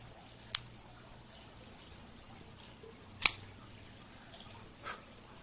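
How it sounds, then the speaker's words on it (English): A cigar being cut with a Cigarism V cutter: three crisp, isolated snips spaced a few seconds apart, close and fairly quiet against a faint background hum. "Let's go ahead and give it a cut. Have our Cigarism V cutter."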